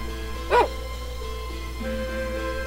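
A single short dog bark or yelp pops out near the start in the video game Tales of Phantasia, set against quiet background game music that continues steadily afterward.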